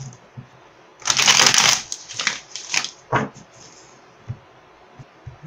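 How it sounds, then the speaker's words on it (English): A deck of tarot cards is riffled quickly up close, a loud burst of flapping followed by a few shorter shuffles and light taps. "I am totally shuffling the wrong deck."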